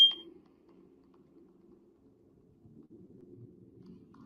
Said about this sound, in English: There are 2 other smoke alarms that the ghost is not bothering with. Just this one by her room.